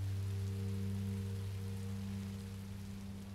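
Rain falling in Minecraft Story Mode, a soft, even patter that holds steady throughout over a low droning hum, with no talking.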